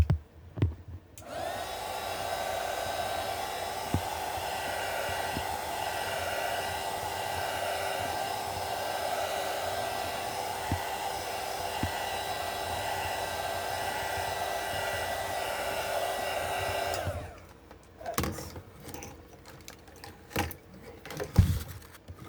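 A small handheld heat gun blows hot air over a painted wooden craft box, a steady close whirring drone lasting about fifteen seconds, with faint taps under it and a few clicks after it stops.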